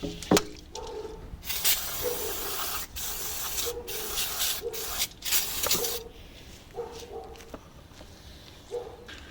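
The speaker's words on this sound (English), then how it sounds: "Also the brake and parts cleaner, I'm going to spray that also on the new rotors and clean them up" Brake and parts cleaner hisses from an aerosol can in repeated bursts onto new brake rotors for a 2000 Ford Falcon AU, with short pauses and handling noises between sprays.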